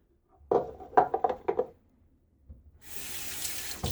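A tap runs with a steady rushing hiss for the last second or so while wetting the face before lathering for a shave, after a few short bursts of nearby handling sounds and brief vocal noises.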